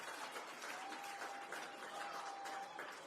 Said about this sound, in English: Round of applause for Maki Petratos.